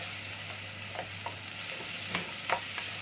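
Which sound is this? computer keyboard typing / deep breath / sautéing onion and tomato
sautéing onion and tomato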